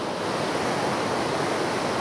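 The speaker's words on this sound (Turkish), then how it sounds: "Bu muazzam şelale inanılmaz bir güzellik." A powerful waterfall in Gündoğmuş, Antalya roars as a loud, steady broadband rush of falling water with no breaks and no voices.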